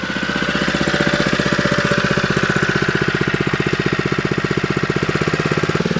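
Toyota Hilux engine running at a raised, steady idle on a homestead water truck, a close, even mechanical drone with a rapid regular pulse that holds constant throughout without talk.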